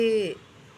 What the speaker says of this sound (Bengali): মাইনা পাখি।